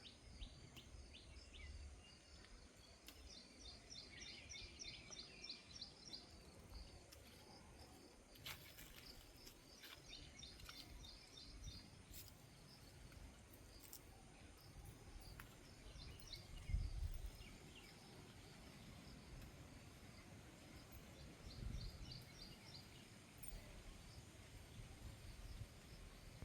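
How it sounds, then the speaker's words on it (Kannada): Faint, distant bird chirps and trills repeat over a soft outdoor background hum, with insects buzzing quietly throughout. "ಪಕ್ಷಿಗಳು ಎಷ್ಟು ಚೆನ್ನಾಗಿ ಸೌಂಡ್ ಮಾಡ್ತಾಯಿದ್ದಾವೆ"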